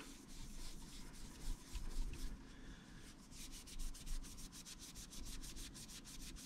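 Excess stone sanding and polishing paste is wiped off a surface, producing steady, soft rubbing and scrubbing strokes up close, with a brisker repeated rhythm toward the end and no talk.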